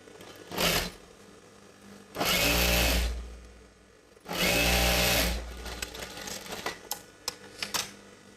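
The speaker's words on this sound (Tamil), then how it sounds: "இது வந்து இந்த ஓரத்தில் நம்ம கைடு அளவுக்கு ஃபோல்டு பண்ணி தச்சிட்டு வரலாம்." A sewing machine stitches the folded edge of pant fabric for a chudidar gathering pant, running in two long loud bursts with a short burst before them, followed by lighter clicking and handling noises.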